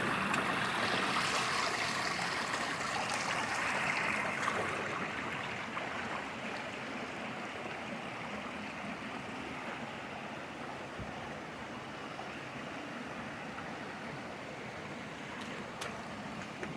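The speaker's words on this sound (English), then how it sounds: "tiny falls there." Small waterfalls at Blue Hole Falls pour over slick rocks in a steady, broad rush of water, loud at first and settling slightly softer after a few seconds, continuous and close throughout.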